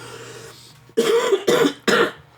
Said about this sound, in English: I can't wait till this fucking cough's gone